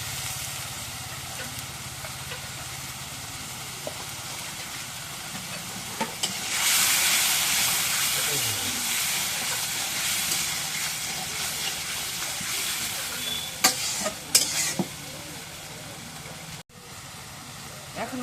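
Spice paste with salt is fried and stirred in a pan, with a continuous close sizzle, a louder stretch of scraping stirring in the middle and a few clinks near the end, while voices talk faintly.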